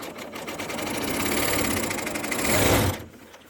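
A serger sewing machine runs steadily, stitching binding onto the edge of a quilt, its fast whirring motor close and continuous before cutting off abruptly near the end.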